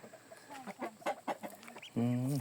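Chickens cluck on a rural farm where ducks are also kept, a few short calls early on and a louder, sustained harmonic squawk near the end, close by with no talk.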